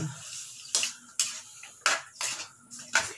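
Shakshouka being stirred in a pan: about six distinct scraping strokes of a utensil against the pan at an uneven pace, close and fairly quiet, with a faint sizzle between them and no talking.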